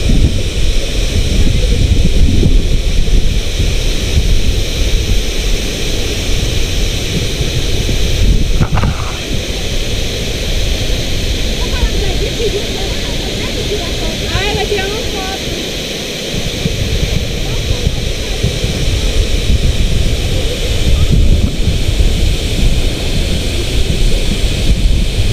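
Water rushing at the Cachoeira do Serrado waterfall, a loud steady roar that stays constant and close throughout, with wind buffeting the microphone and people talking over it at moments.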